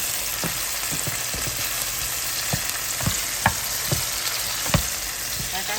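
Canned mackerel with green and red bell peppers and tomato sauce being stirred in a frying pan: a continuous close sizzle punctuated by regular soft taps and scrapes of the spoon, with no voices.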